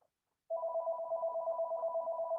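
A telephone rings with a steady electronic tone that starts abruptly and continues unbroken, loud and close, with no talking over it.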